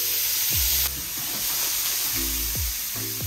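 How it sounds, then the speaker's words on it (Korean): Scallions and onion stir-frying in oil with a steady broadband sizzle and hiss, broken by a few clattering stirs and scrapes of a utensil against the pan, close and fairly loud. "그 다음에 파랑 양파 볶아줘"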